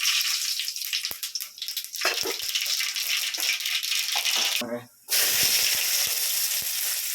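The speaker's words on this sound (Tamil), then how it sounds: "கடுகு பருப்பு போடுறேன்" Mustard seeds and lentils sputter and hiss in hot oil for a garlic kuzhambu, a steady close crackle with scattered pops and a brief lull near the end before the sizzle resumes.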